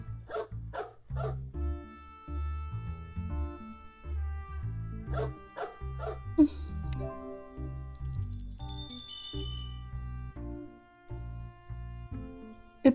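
A small, easily frightened dog yips and barks repeatedly over loud music in a room, with scattered sharp barks and a faint jingling sound partway through.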